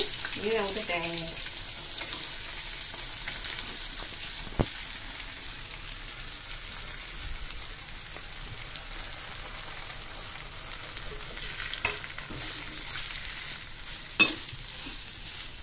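Grated coconut fries in a pan with onions and curry leaves for thuvara sambar, giving a steady hiss and sizzle with occasional scraping stirs and a few sharp clinks, plus brief running water and faint voices.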